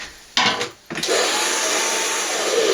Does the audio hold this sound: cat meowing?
no